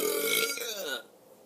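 A person burps on command, one long loud belch lasting about a second that trails off into quiet.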